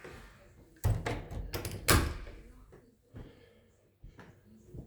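Back door of an apartment in a narrow passage, producing a few thuds and knocks, one loud near bang among quieter taps and scrapes, with brief talk nearby.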